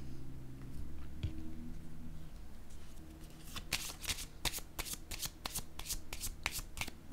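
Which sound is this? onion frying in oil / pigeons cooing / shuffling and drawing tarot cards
shuffling and drawing tarot cards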